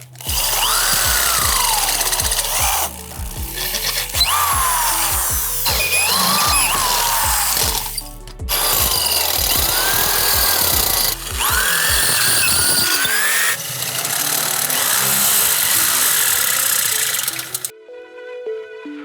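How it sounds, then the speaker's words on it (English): A power drill with a 13/16 bit whirs loudly in repeated bursts, revving up and down with short pauses between runs before cutting off near the end. "our final is going to be a 13/16 drill bit, and that's what's going to fit the bolts"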